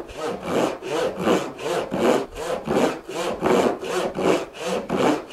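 A hand saw, a stair saw, rasps steadily through wood in a regular back-and-forth rhythm, about a dozen close, loud strokes with no talking.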